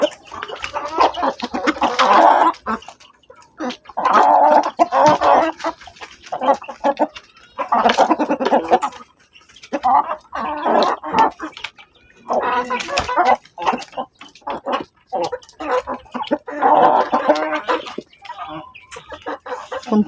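Pet chickens cluck and squabble while pecking at coconut meat, with repeated close bursts of clucking and scratching pecks separated by short quieter moments, fairly loud throughout.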